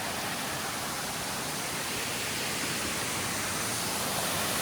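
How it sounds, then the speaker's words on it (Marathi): Steady, dense broadband rush of water, loud and continuous without pauses, like a waterfall pouring close by; the Chanderai waterfall, in an enclosed, walled area. "त्याच्यामध्येच हा धबधबा वाहतोय"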